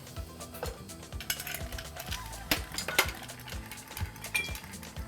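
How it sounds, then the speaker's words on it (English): Bar spoon stirring an Amaro cocktail in a glass, close and busy, with rapid clinking and tapping against the glass in an uneven rhythm. "Now we're gonna give this all a nice little stir."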